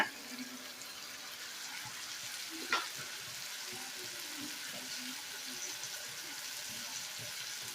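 A paste of poppy seed, mustard and green chilli fries in a pan with a soft, continuous hiss, fairly quiet, with a brief scrape or splash near the start.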